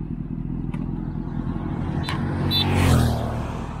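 A motorcycle engine rumbles steadily at close range, then rises in a short rev before settling, with brief faint clicks above the low drone.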